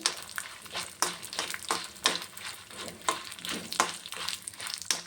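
Red chilies sizzle and crackle in a hot pan for red chutney served with dosa and idli, with a rhythmic scraping stir roughly once a second over a low steady fry, close and fairly quiet.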